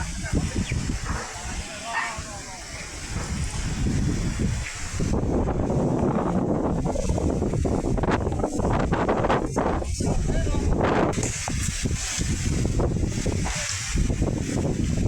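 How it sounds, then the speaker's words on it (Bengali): Strong gusting nor'wester storm wind, over 60 speed, roars across the microphone in a heavy, continuous rush, swelling louder partway through and staying intense. "এই মুহূর্তে কালবৈশাখী ঝড় শুরু হয়ে গেছে"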